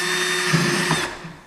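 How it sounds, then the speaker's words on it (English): A cordless drill with a small bit runs at high whine boring a pilot hole in the plastic airbox cover of a Honda CRF250L, loud and close, then spinning down and stopping. "I'm just going to start them with a smaller drill before I go to the step drill."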